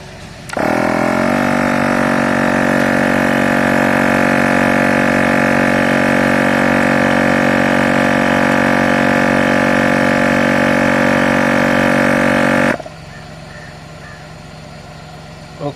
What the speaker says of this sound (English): The pump is reasonably fast.